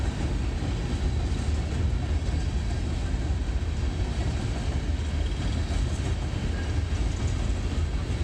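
A loaded coal freight train rumbles past at Littleton/Mineral Station, a steady, continuous low roar and rattle of rolling wagons that stays loud and even throughout, with no speech heard.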